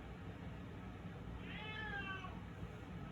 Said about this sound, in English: Apologize if you could hear my cat howling in the background.